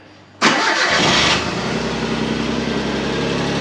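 A Suzuki Cappuccino fitted with new Greddy charge piping and an intake fires up after a short crank, catching with a loud burst of revs before dropping into a steady, close idle with no talking.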